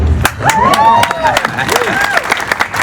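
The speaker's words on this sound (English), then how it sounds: "That's where you applaud" A crowd at an outdoor Walk of the Stars ceremony in Palm Springs honoring an actor bursts into applause and cheering, clapping mixed with whoops and shouts, loud and close, with voices rising through it.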